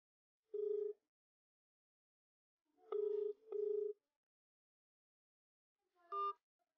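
A phone dialer app plays short electronic call tones, four clean beeps heard in isolation against silence. One comes alone, then a close pair follows after a gap, and a slightly different final tone closes the sequence.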